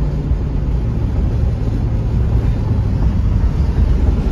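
A 2002 Chevy Camaro's engine drones steadily from inside the cabin while driving, a loud continuous low rumble with road and wind noise and no talking.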